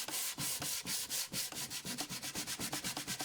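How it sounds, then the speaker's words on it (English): Folded quarter-sheet sandpaper rubbed by hand over wood, a close, steady run of rasping back-and-forth strokes that quicken toward the end, heard alone. "For this kind of sanding, I fold the quarter sheet into thirds and hold it flat in my hand."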